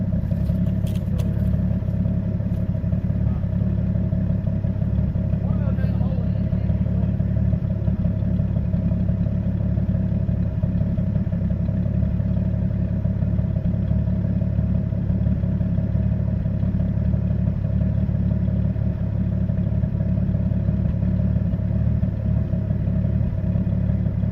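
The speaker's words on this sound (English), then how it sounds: "Let y'all listen to her purr for a second." A 1976 Ford tractor engine idles steadily and loudly nearby, a constant low chugging rumble with no talking over it.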